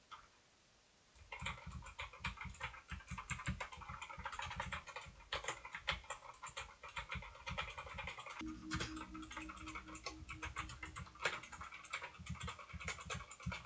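Rapid, continuous clacking comes from an A+ Seth budget mechanical gaming keyboard being typed on, close and crisp, starting after a moment of quiet and running on with no talking.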